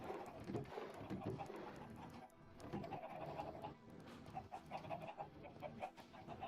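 Chickens in the Minecraft video game cluck in a busy, continuous murmur of short bird calls layered over game background sound, with no speech.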